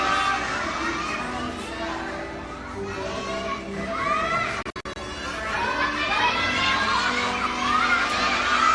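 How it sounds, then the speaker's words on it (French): Schoolchildren shout and cheer loudly as a classmate tries to jump over an obstacle, a dense excited crowd of young voices that dips briefly in the middle before rising again. "alors on entend les cris des copains."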